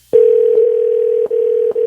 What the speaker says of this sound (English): You're going to hear the ringing now.